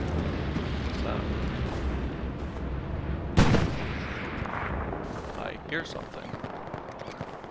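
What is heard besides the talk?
tank firing in video game Hell Let Loose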